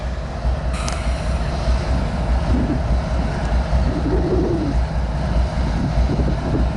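Idling locomotive engines on a tied-down empty coal train in a rail yard in Somerset, PA, a loud, steady low rumble droning without a break, with faint bird calls over it.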